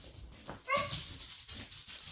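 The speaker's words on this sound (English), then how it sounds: "the dogs hear geese outside, and so they just went running" Dogs bark and whimper with short, sharp yelps, fairly faint and brief, as they react to geese outside and run off.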